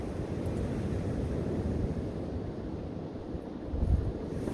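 Wind buffets the microphone outdoors on a cod-fishing trip around the UK, a constant low rumbling roar with a stronger gust near the end and no talking.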